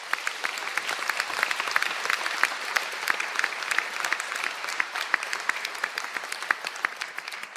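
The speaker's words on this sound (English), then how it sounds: "One last round of applause," Applause from the audience at a university conferring ceremony, many individual claps heard crisply but fairly quietly in a large hall, steady and sustained throughout.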